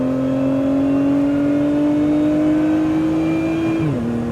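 A 2025 Lotus Emira sports car accelerating on a racetrack, its engine note rising steadily in pitch as it pulls hard, then dropping at a gear change near the end, loud and close.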